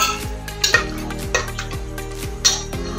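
Cashews frying in ghee in a pan, with repeated metallic clinks and scrapes of stirring over a soft sizzle and a steady tonal background, loud and close, with no talking.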